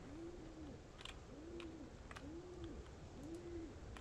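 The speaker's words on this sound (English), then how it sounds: "Shut up, bird." Pigeon or dove cooing in four evenly spaced, rising-and-falling calls over steady background hiss, with a few faint clicks between.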